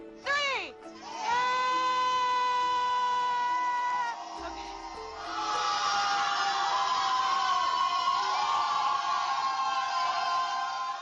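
A group of people screams at the top of their lungs together, a rising shriek from one voice followed by a long, loud, sustained chorus of many screaming voices that swells and holds for several seconds.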